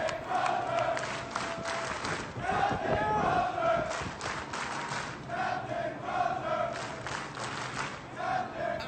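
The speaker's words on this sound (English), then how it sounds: "They're cheering for their hero that led them." A crowd of service members chants and cheers for a leader walking away, rhythmic loud shouted bursts repeating in waves with thumps underneath, heard from a recorded clip.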